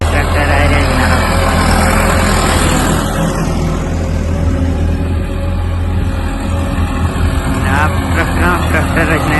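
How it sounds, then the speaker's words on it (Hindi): Tractors drive along a sandy, rain-damaged road beside Mangla Dam, giving a loud, continuous low engine rumble with steady drone, while someone talks over the noise. "ट्रैक्टर आ रहे जनाब"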